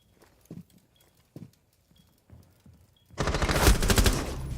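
Gunfire in a competitive shooter video game match, a few scattered sharp shots followed by a loud, sustained burst of rapid automatic fire near the end.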